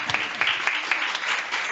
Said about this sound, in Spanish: Oye, un aplauso por favor a Javiera